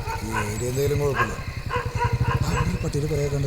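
Dogs yip and whimper close by in a steady run of short calls, mixed in with people talking.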